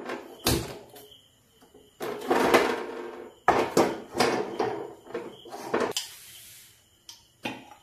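A metal kadai is set down on a gas stove in a home kitchen. Several close, separate clanks and knocks of metal on the burner ring out, with short pauses between them.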